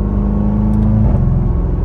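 A supercharged SUV with a loud performance exhaust, a steady deep engine rumble with a slight rise in revs, close and sustained throughout.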